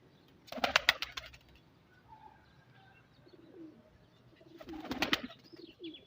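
Two bursts of soft cooing from breeder pigeons, including teddy breeds, one near the start and one near the end, with quieter chirps and low background murmurs in between.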